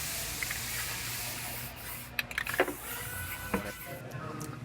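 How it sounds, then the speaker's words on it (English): Aerosol spray paint dusted white over sound deadening pads inside a Sprinter van at a collision body shop, heard as a few short hissing spray bursts over a steady low room hum. "Now I'm just going to dust some white on top of these sound deadening pads to blend them in."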